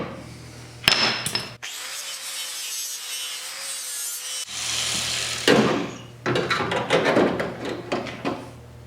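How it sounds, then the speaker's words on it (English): Grinder trimming the rear valance metal of a 1974 Triumph TR6 under restoration, bursts of harsh abrasive grinding broken by a quiet pause, close and loud, with shorter rough passes toward the end. "I need to grind a lot here."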